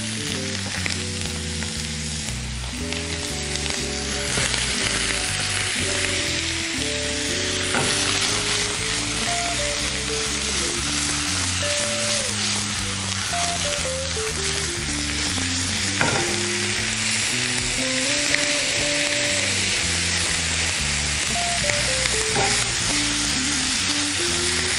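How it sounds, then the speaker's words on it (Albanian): Mushrooms fry in olive oil in a hot pan for a veal steak dish, a steady sizzle running underneath louder background music throughout. "Shtojmë vajin e ullirit dhe shtojmë kërpullat pletur."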